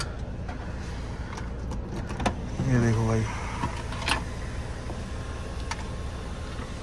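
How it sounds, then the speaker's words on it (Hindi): A car's electric sunroof opening, a short motorized whir lasting under a second in the middle, close by, with someone talking around it. "तो भाई एक बार आप लोगों को सनरूफ का भी रिस्पॉन्स चेक करा देता हूँ मैं थोड़ा सा"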